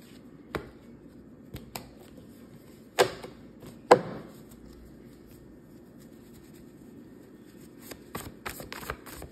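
Tarot cards being shuffled for a reading make faint, sparse riffles and snaps, with a few sharper slaps in the middle and a cluster of quick flicks near the end, over quiet room noise.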